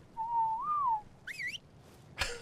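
A whistled passive command in the game ARK: a single rising-and-falling whistle, followed by a brief high chirping call and a sharp sudden noise near the end.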